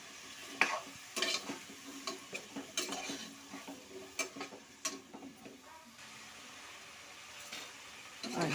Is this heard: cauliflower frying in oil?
yes